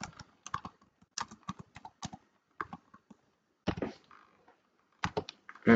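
A short name is typed on a computer keyboard, sharp close key clicks in uneven clusters with gaps between them, alone without speech.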